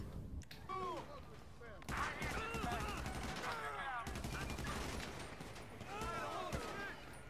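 Gunfire in an open-world video game during a police chase, with repeated bursts of shots over game noise and other in-game sounds.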